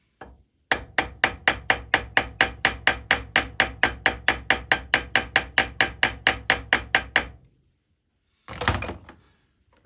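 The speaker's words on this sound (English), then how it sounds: "And now time to do the same with the ball end of the hammer." Steady, rapid hammering with the ball end of a hammer during valve gear repair on a steam locomotive, about thirty evenly spaced sharp metallic blows, close and loud, then a pause and one last heavier strike.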